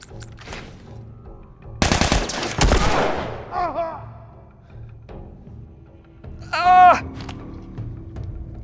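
Bursts of rapid automatic assault rifle gunfire in The Last of Us Part I crackle loudly in short volleys, with quieter stretches of rustling and electronic tones between them.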